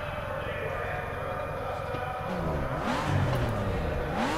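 A car engine rumbles steadily, then swells into rising revs with sweeping pitch climbs near the end, fairly close, with faint voices in the background.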